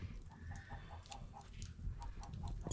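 Hens cluck in a Turkish village farmyard on a cold, foggy day, a steady series of soft, regular clucks over a continuous low rumble of background noise.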